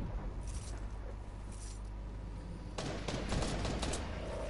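Gunfire in Fortnite, a steady wash of shots and game noise that grows denser and louder toward the end, with rapid bursts crowding the last second and a half.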